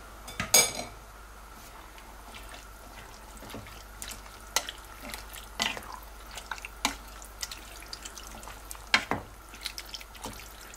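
Rinsed, drained tinned kidney beans tipped into a pot of beef chili, with scattered metallic clinks and scrapes of spoon against pot, wet soft drops, and light bubbling between the knocks, close up and with no talking.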